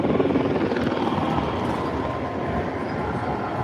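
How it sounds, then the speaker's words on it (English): A police helicopter hovers over a concert in Los Angeles, a steady loud rotor drone that holds without pause from start to finish. "that's probably what the helicopter's there for"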